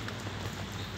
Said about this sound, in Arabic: أمطار الخير.